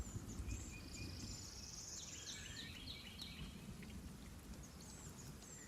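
Steady soft rain patters outdoors in the morning, a faint continuous hiss with a few thin bird chirps rising briefly in the middle, and no voices.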